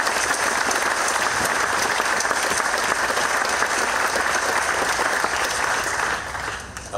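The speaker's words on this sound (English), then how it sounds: "I think we should give every committee a round of applause for all the hard work" Steady, sustained applause from an audience honoring committees at an award ceremony, dense clapping filling the whole stretch before thinning slightly near the end.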